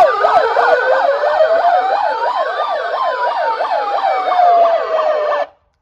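Police-style siren hooter fitted on a Mahindra Scorpio Classic S base model, wailing loudly and continuously with sweeping, rising and falling multi-tone yelps close by, then cutting off abruptly.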